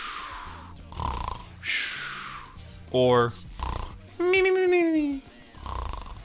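A voice imitates a snoring Komala, the sleepy koala Pokémon: short buzzing snore-like grunts and a long rising, wavering groan, with a few spoken syllables between them.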